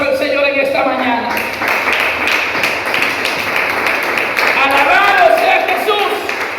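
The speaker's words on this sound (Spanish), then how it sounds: "Si le puede dar un aplauso al Señor en esta mañana." A church congregation claps together in a dense, continuous burst of applause that fills the room, with voices heard beneath and over the clapping.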